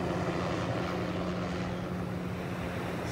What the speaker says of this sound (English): That's one of our mosquito control helicopters flying just above the trees.